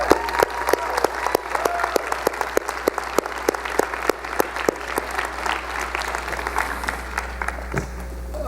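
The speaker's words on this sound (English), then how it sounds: "I would like the graduates to applaud your parents and thank them for all they've done." Applause at a university summer commencement ceremony in North Dakota: graduates clap for their parents, a sparse crowd of distinct, sharp claps that continues steadily and then thins out toward the end.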